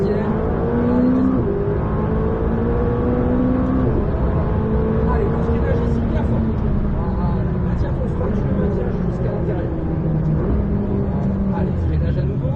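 A McLaren 600LT engine roars continuously and close on the Le Luc circuit, its pitch climbing as the car accelerates through the gears, with a voice talking over it.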